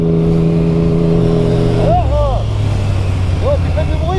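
A car drives past on a road with a steady engine drone, followed by a brief rising rev as it passes close by; no voices are heard over it.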